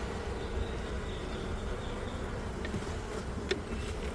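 Honey bees buzz steadily around an open hive during an autumn inspection, a close, continuous hum with individual bees droning past the microphone.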